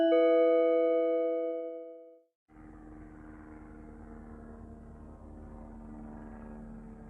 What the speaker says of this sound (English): That's a helicopter flying over me again.